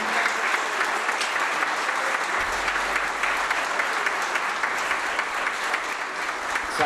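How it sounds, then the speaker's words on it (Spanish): Steady, loud applause from a concert crowd at a club in San Javier, filling the whole stretch evenly without talk. "yo voy a pedir un fuerte aplauso para ustedes que están esta noche acá acompañándonos"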